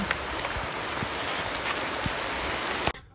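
Steady rain hiss falls outdoors in the Philippine countryside during a fishing trip, a dense even wash with scattered drop ticks that stops abruptly near the end.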